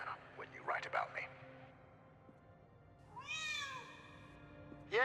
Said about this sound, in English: Yes, there is a black cat under a ladder